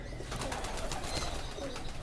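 Pigeons in a loft, large Amritsari birds, give soft low cooing amid a busy, close flutter of coos and rustling, continuous and fairly loud for a couple of seconds.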